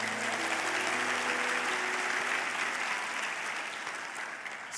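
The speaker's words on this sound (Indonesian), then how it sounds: "Kalau mau tepuk tangan yang paling meriah buat Tuhan kita" A church congregation applauds in a dense, sustained wave of clapping that stays loud and steady before tapering slightly at the end, with faint musical tones underneath and no talking.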